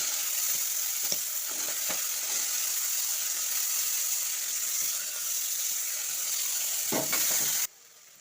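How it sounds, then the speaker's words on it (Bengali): Continuous bright sizzling of peas frying in a pan, with occasional soft scrapes of stirring, cutting off abruptly near the end. "এবার আমি মটরশুটিগুলো ভেজে নিচ্ছি"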